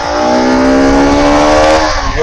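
A Bajaj Pulsar RS200 motorcycle on a test ride accelerates hard, the engine whine climbing steadily in pitch, loud and close, then dropping off abruptly at the end.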